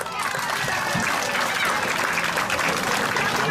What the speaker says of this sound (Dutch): een groot applaus voor deze twee vechters